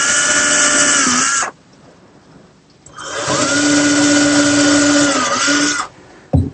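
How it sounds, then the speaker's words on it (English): Power drill boring holes in a wooden drawer front for a handle in a woodworking shop: two loud, close, whining runs of a few seconds each, separated by a short quiet gap. "Here I'm drilling holes in the draw front for the handle."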